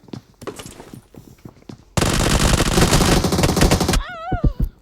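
Uzi submachine gun firing in PUBG Mobile, a loud sustained burst of rapid automatic fire lasting about two seconds, followed by sharp game effect tones, with faint game sounds before it.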